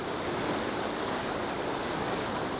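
Steady, dense rush of ocean waves in the video game Big Breezy Boat, a continuous broadband surf wash with no pauses, fairly loud and even, no voices.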